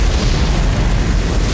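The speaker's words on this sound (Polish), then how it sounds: "oczywiście eksplozja wtórna jakaś mnie rozwaliła" A secondary explosion in the video game Elden Ring: Shadow of the Erdtree, a dense, loud rumbling blast that fills the whole moment with sustained low booming and crackle, heard alone without talk.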